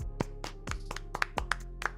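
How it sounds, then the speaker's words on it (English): Scattered, sparse hand claps sound during a live fantasy football Q&A stream, a handful of distinct slaps spaced irregularly over two seconds against a low background hum. "Let's clap for Zach"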